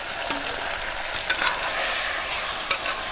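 Chicken fries in a pan with bay leaf and dried chili, a dense close sizzle running steadily throughout, broken by a few brief stirring scrapes.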